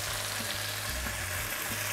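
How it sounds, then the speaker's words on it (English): Steady, close sizzling of chicken frying in a hot pan, a dense crackling hiss with occasional soft pops and no voices. "And you hear it frying up good."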